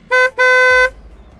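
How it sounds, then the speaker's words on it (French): A car horn honking behind a driver, two loud close blasts, a short toot followed by a longer held one, with a low rumble continuing afterward. "Qui est-ce qui klaxonne derrière moi?"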